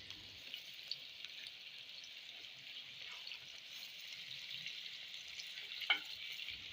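Mutton trotters frying in a spiced masala in a pan give a faint, steady sizzle with a soft hiss, broken by a brief stirring scrape near the end; no voices.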